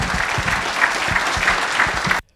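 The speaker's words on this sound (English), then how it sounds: "Please give them a round of applause." Brief round of applause from a seated audience after a pavement preservation panel session in Raleigh, North Carolina, even clapping that stops abruptly.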